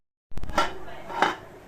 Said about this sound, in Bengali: এই যে ঢেকে দেব